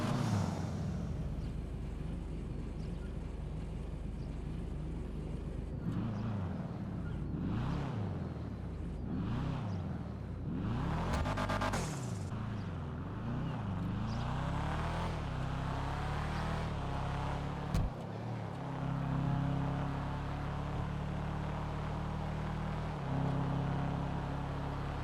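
A car engine in the GTA Online video game revs repeatedly, its pitch sweeping up and down over a quiet droning idle, with short whooshes and no talk.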